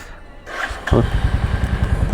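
A Royal Enfield motorcycle engine, just serviced, cranks and catches, then settles into a steady, throbbing idle close by.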